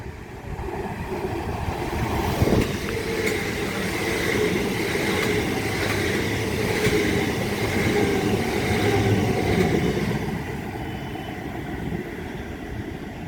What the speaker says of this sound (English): I was about to have a pair of Southeastern class 375s going from Maidstone East to London Charing Cross.